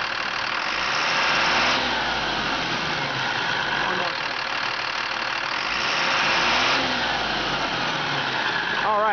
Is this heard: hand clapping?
no